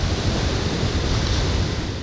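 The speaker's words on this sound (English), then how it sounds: "The sea that once stayed far from his shrine now moves closer with every strong wave, breaking walls, exposing rocks" Sea waves break against a shore where walls and rocks are exposed, producing a loud, continuous roar of surf with wind noise.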